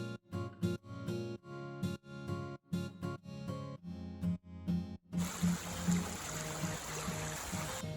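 A waterfall at Vagamon rushes steadily and fairly loudly through the second half, following a stretch of rhythmic, tonal sound at the start.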